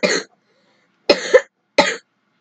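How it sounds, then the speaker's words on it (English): Three sharp coughs close up, separated by short silent gaps, the second one a doubled hack. "I'm coughing a lot."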